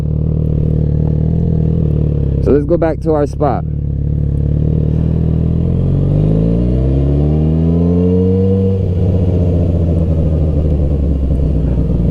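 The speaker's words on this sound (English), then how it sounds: "Before I get to the stop sign, I got to kick down, bring in the clutch again, press in the brakes, feet down." A 1000cc sport motorcycle runs close by, its engine note dropping and then sweeping upward through a gear change while a rider talks over the steady, loud rumble.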